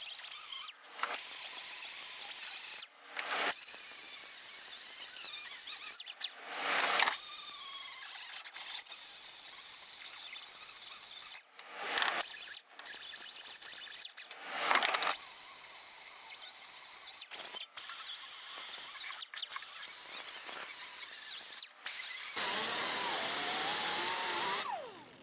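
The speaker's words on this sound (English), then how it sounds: "I'm using just a quick little grinder" A worn grinder fitted with a sanding disc bites into the floor metal of a 1968 Ford F250 diesel truck, loud bursts of high whining grind separated by short pauses and ending in a harsher shriek.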